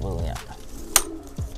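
Pigeons in a loft give low, throaty coos close by, mixed with background voices and a sharp bright click in the middle.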